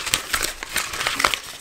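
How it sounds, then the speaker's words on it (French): Backing paper being peeled away from 120 roll film, a dry crinkling and crackling rustle with a few sharper tearing ticks, close and continuous for under two seconds. "la première chose à faire, ça va être de retirer d'un côté l'émulsion et de l'autre le papier"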